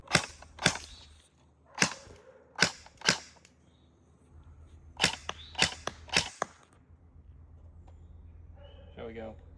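Airsoft gun firing single shots outdoors, seven or eight sharp cracks spaced irregularly, then a quieter stretch with low rumble and a faint chirp at the end.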